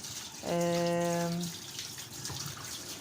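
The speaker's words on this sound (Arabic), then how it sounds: "سايب عليها مية بقى نضيفة وهشطفها" Tap water runs into a sink to rinse chicken, a clear one-second gush of flowing water that starts and stops abruptly, followed by faint splashing and handling sounds.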